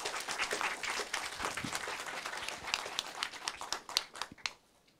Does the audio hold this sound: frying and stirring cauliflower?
no